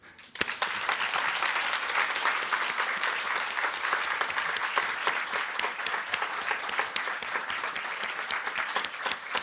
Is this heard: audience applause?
yes